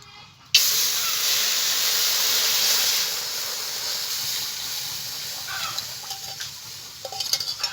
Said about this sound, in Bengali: এখন আমি কড়াইতে দুধ দিয়ে দিচ্ছি।